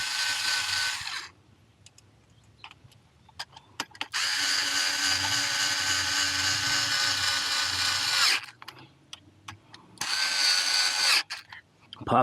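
A power tool tightens frame slider bolts on a KTM Duke 200 motorcycle in three loud, close whirring bursts, the middle one longest, with short clicks and handling noises in the pauses between them.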